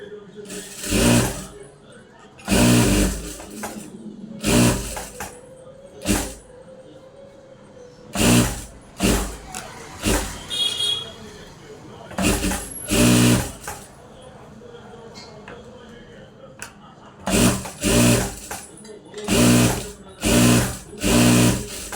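A sewing machine stitches a blouse in short, loud, repeated bursts with pauses between runs, while a person talks in the gaps.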